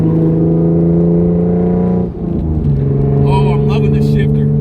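A Hyundai Genesis Coupe engine drones loudly while driving, heard close from inside the car, with a dip partway through as a gear change drops the pitch before the steady roar resumes.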